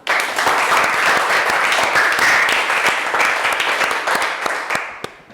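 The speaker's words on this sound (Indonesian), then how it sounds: "Beri tepuk tangan." A class of students applauds in a history lesson, loud dense clapping from many hands close by, sustained for several seconds before thinning out at the end.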